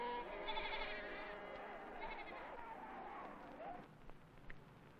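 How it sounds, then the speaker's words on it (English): Sheep bleating amid the rubble and debris of a rapidly urbanized Iranian town, several wavering calls layered over a steady noisy background with a faint voice present. "Sheep wandered among the debris of over-rapid urbanization."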